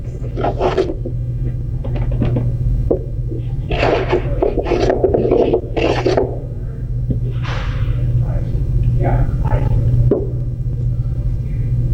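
A hand plane pushed along wood makes repeated rasping shaving strokes in short bursts, a close, scratchy swish with pauses between passes over a low steady hum.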